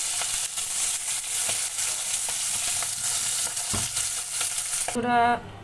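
Tengra fish fries in oil in a pan, a close, steady, crackling sizzle with occasional stirring knocks, and a brief tonal sound rising over it at the very end.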